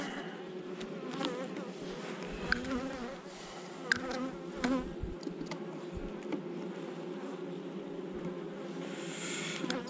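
Honey bees swarming around an open hive during a beekeeping inspection, a steady close buzzing drone with individual bees zipping past the ear, no talking.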